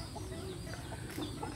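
Chickens feeding at a farm after heavy overnight rain give soft, faint clucks over a steady low background murmur, with no distinct pecking.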